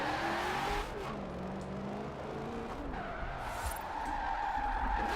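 A Mustang in the racing game Forza Horizon 4 skids with long tire squeals over a revving engine, the screech rising and falling in several drawn-out slides.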